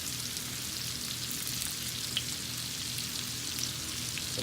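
Butter sizzling in a cast iron pan with seasoned salt and garlic powder for steak and potatoes, a dense, even crackling hiss that continues without a break, close and moderately quiet, with no voices.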